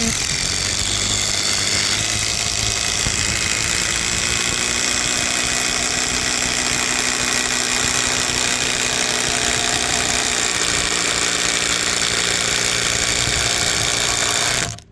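An impact driver runs continuously and loudly, driving a 55 cm screw into oak with a dense, steady whirring hammer for about fifteen seconds before cutting off abruptly.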